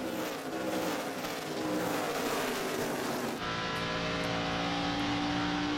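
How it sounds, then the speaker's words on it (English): NASCAR Nationwide Series stock cars racing in close quarters at Nashville, a loud sustained engine roar that shifts abruptly partway through as cars pass, with steady high-pitched engine tones continuing to the end. "Close quarters racing right here with lead lap cars and lap down cars."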